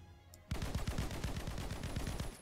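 Rapid automatic gunfire from the Snake Force video game bursts in after a short quiet moment, a steady stream of loud repeated shots lasting about two seconds.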